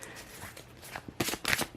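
Tarot cards shuffled and drawn by hand during a Gemini 2023 reading: soft papery riffling builds into two louder, brisk bursts of card handling near the end, close and with no talking.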